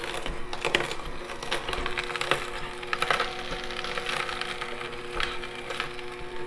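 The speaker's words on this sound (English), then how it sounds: "The motor doesn't seem to be laboring or struggling with the hard roots" An AMZCHEF cold-press juicer motor grinds steadily while hard roots crunch and splinter through it, a dense continuous churning with occasional sharper cracks.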